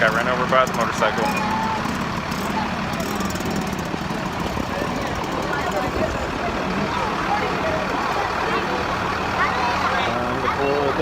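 A bus idling with a steady low diesel rumble at a medical mission trip in La Romana, running continuously under people talking nearby before passengers board.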